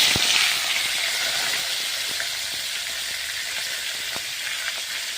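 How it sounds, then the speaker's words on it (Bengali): Catla fish heads frying in hot oil give off a steady, close sizzle with scattered sharp crackles and pops, loudest at the start and settling into an even hiss; no one speaks. "তেলটা আমার গরম হয়ে গেছে, মাছের মাথাগুলো ভেজে নেব।"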